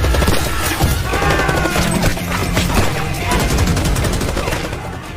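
Dense gunfire in a film shootout with a truck explosion nearby, loud and continuous rapid shots layered over heavy rumbling booms and crashes for the whole stretch.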